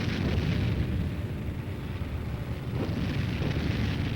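Overhead artillery fire bursting during a tank-infantry advance, heard as a dense, continuous roar of explosions and rumbling blasts that fill the whole stretch, loud and sustained with no distinct gaps.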